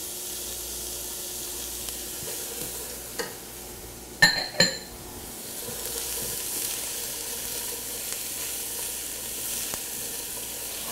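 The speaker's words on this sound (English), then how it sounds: "we're gonna put in our celery and our carrots, and we're gonna let that cook about another 5 minutes" Celery and carrots sizzle steadily in a hot pan, giving a continuous hiss with a couple of sharp stirring clatters partway through.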